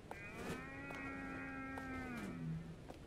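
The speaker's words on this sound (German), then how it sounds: "Vielleicht wohnen hier auch Kühe." A single cow lets out one long, drawn-out moo in the horror video game Night Delivery by Chilla's Art. It sounds fairly close and drops in pitch at the end, over a low background hum with faint clicks.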